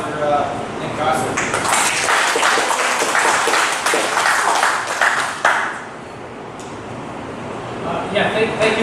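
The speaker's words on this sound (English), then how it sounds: "one more big round of applause for Nick Costa" Audience applause rises across the first half, broad and sustained clapping from a room of people, then thins to a quieter patch with scattered claps near the end.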